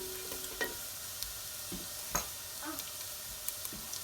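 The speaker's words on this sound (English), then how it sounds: "A light saute really, I mean we don't want to give it too much of browning" Vegan lentil patty mixture getting a light sauté in a pan: a faint, steady sizzle with a few soft clicks and scrapes of stirring, quiet and close with no talking.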